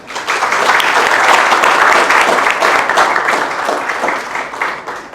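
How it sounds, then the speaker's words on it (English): A crowd applauds steadily at a workshop on learning Japanese, with dense, loud clapping that fills the room and begins to fade slightly toward the end. "So please, a big round of applause."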